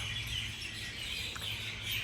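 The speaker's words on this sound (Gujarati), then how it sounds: "પક્ષીઓનો કિલોલ બધાને બહુ પસંદ હોય છે જો અત્યારે અવાજ આવે છે" Evening birdsong outdoors around a quarter past six, a dense chorus of faint high chirps from birds at a distance, continuous and steady without speech.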